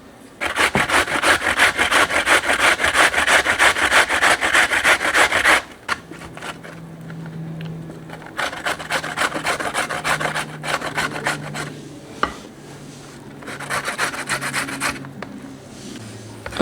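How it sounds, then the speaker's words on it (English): A courgette is grated by hand against a grater in quick, steady rasping strokes, loud and close, first in one long burst and then in shorter bouts with pauses between, with no talking. "grate half of that courgette."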